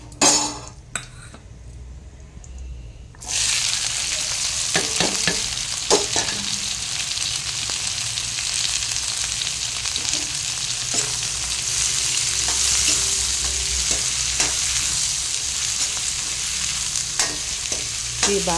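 Onions sizzle in a pan with steady, close frying noise after a quieter opening, punctuated by repeated stirring scrapes and light clinks of a utensil against the pan.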